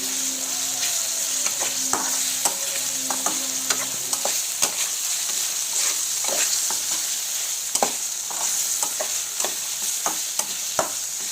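Ginger garlic paste being stirred in a hot pan for a prawn dish, with a steady bright sizzle and repeated sharp spoon scrapes and clicks against the metal, close and fairly loud, no voices.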